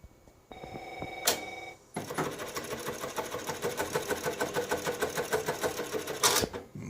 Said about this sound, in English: Now we're entered the sewing mode